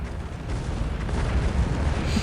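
Cannons fire in a 2v2 tournament match of the strategy game Earth 2150, producing a dense, continuous barrage of overlapping booms and rumbling blasts at steady loudness throughout.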